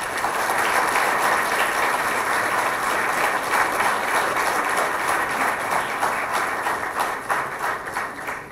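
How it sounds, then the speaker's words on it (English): An audience at a talk on Kashmir and Kashmiri Hindus breaks into sustained applause to welcome a speaker, a dense steady clapping that fills the whole stretch with no talking over it. "please welcome Shri Sushil Pandit Ji with a round of applause"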